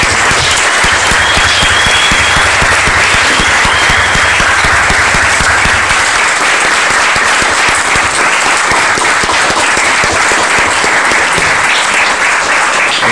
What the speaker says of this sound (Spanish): Bueno, yo pediría un aplauso para el voto.